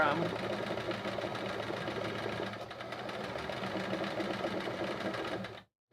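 A sewing machine runs steadily and close during free-motion quilting, humming with a fast, continuous rhythm for about six seconds before it stops abruptly.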